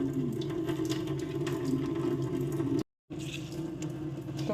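Water runs and splashes steadily as soaked vadi dumplings are drained, a continuous sink-like pour with a brief cut in the middle, no talking.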